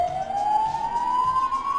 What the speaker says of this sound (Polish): bo przyjedzie karetka i zacznie tutaj wyć po prostu i psuć nagranie